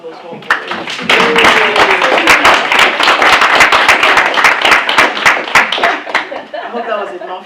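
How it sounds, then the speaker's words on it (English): An audience at a creative session in Swansea gives a round of applause for a guest named Rebecca, dense sustained clapping filling the room with some chuckles and chatter mixed in. "let's give Rebecca a round of applause for her"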